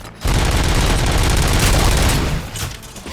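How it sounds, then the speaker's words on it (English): Gunfire in the video game RoboCop: Rogue City plays on PS5, a loud, dense burst of rapid shots that fades after about two seconds. "Gunshots? What's going on?"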